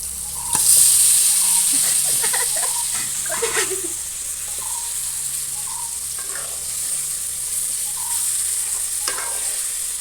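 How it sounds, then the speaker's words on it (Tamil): Spices and turmeric sauté in a pan for stingray fish curry, a steady bright sizzle with repeated scraping stirs and clinks over roughly ten seconds. "இப்போ எல்லாமே நல்லா வதங்கி போட்டு திருப்பி திருப்பி திருப்பியே போடுவோம்"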